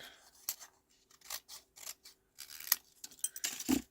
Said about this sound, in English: I'm just running my scissors down like that.